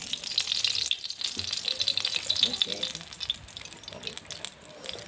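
Mustard oil poured into a hot kadai in a village kitchen, giving a bright crackling sizzle that swells and fades, with clinks and small knocks from the pan beneath.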